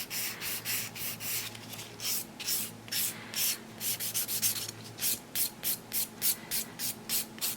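Nails are filed and smoothed with a 240 grit file, making rapid rhythmic rasping strokes, close and steady, in short repeated bursts with brief pauses between.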